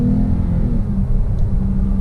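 A 2019 Dodge Charger SXT AWD with a V6 engine accelerating, heard from inside as a loud, steady low engine rumble and drone with no voices.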